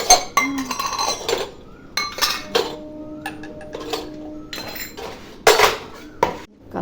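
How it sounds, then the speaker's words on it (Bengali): Utensils used for a household deity are being washed, and metal dishes and cutlery clink and clatter in irregular bursts, with sharp ringing knocks between quieter handling sounds. "ঠাকুরের বাসন মাজা হয়ে গেল"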